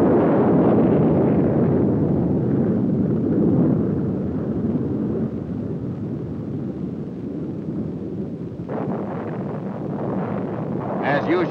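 An Honest John rocket test firing at White Sands Missile Range in 1963 gives a heavy, continuous roar and rumble that stays loud and slowly eases over several seconds, with a faint shift near the end.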